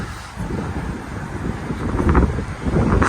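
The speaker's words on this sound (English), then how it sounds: "It's still windy here." Wind gusts buffet the microphone near a railroad crossing, a rough, rumbling roar that swells and eases over a few seconds with no talking.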